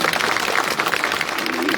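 Loud, dense applause from a family audience at a political speech gathering in Chotila, steady clapping filling the whole moment with no voice over it.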